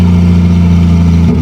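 Turbocharged, swapped 2JZ-GE engine in a third-generation Toyota Supra burbles loudly and up close, a deep steady rumble that shifts slightly just before the end.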